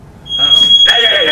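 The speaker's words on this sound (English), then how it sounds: "But that was actually the fire alarm right there." A fire alarm sounds loudly with a steady high-pitched electronic tone that starts abruptly and continues, accompanied by a brief additional chirp, heard close and alone.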